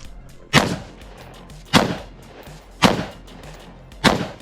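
Four sharp pistol shots ring out at evenly spaced intervals at a run-and-gun shooting competition, each crack striking steel targets and decaying quickly, loud and with no talk between them.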